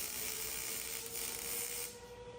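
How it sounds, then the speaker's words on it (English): Welding a steering top support in place gives a steady broadband crackle and hiss that holds for about two seconds, then drops away, fairly close with no talk over it. "Ready to weld. Is our steering top support and weld it on."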